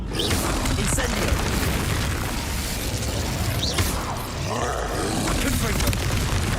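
A fire spell cast in Hogwarts Legacy during live gameplay, heard as a continuous loud roaring, booming rush of magical flame and combat noise lasting several seconds, with bursts layered over a dense, steady backdrop.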